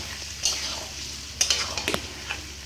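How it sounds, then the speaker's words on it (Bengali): Mutton fries in hot oil over a high gas flame, a continuous sizzle under several sharp stirring scrapes and clinks as the meat is turned. "ঢেলে দিলাম আমি মাংসটাকে পুরো তেলের মধ্যে। এবার আমি জোর দিয়ে দিয়েছি গ্যাসটাকে, এবার কিন্তু কষাতে হবে এটা ভালো করে।"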